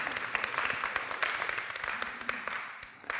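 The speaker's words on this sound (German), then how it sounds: "Applaus." Audience at a German-language lecture gives sustained applause, a dense, even crackle of many hands clapping close by for several seconds, with no speech over it.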